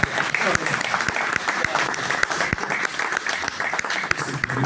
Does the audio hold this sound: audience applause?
yes